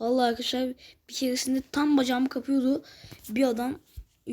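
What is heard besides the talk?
None of the usual background noises is heard.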